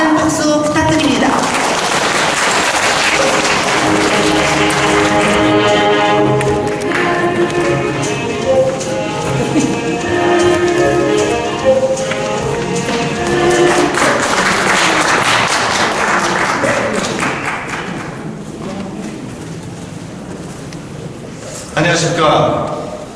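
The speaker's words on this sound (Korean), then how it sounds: "많은 박수 부탁드립니다" A seated audience at a 2015 community sharing-concert event applauds at length before a lecture, a sustained crackle of many hands mixed with voices and some background music, thinning out toward the end.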